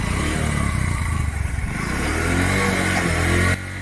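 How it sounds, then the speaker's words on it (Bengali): A Bajaj Discover 125 motorcycle with a damaged clutch runs in gear, its engine droning steadily and loudly with a rough, clattering edge, then the sound drops sharply just before the end. "বাজাজ ডিসকভার 125 এই বাইকের প্রবলেম হলো, বাইকটি গিয়ার দিয়ে যখন চালানো যাচ্ছে তখন কিন্তু বাইক চিল্লাচ্ছে"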